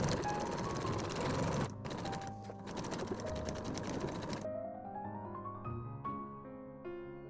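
A sewing machine bastes bag fabric in a continuous close mechanical whir that runs for several seconds, then stops and leaves quieter tonal sounds and light clicks behind.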